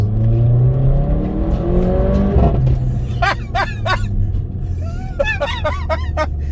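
A 2014 Mercedes-Benz A45 hot hatch engine revs hard and climbs through the gears, a loud close roar that rises and drops at each shift, with sharp pops and whistles over a low rumble.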